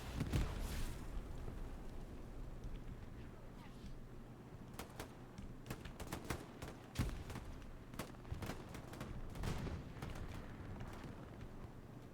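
Machine gun fire in a multiplayer shooter match, rapid bursts and scattered shots at middle distance over a steady battlefield rumble, with a loud crack near the seven-second mark and talk running underneath.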